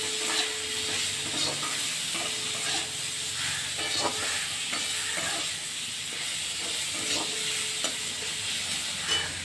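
Onions sizzling in a pan with turmeric and salt added, being cooked only halfway rather than browned; a steady close hiss and crackle with occasional stirring scrapes, no talking.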